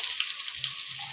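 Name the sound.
potatoes frying in a pan for mutton curry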